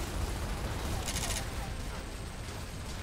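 Gunfire in the video game Gears of War crackles as a dense, continuous fusillade of loud shots under the rumble of game audio, with a player talking over it.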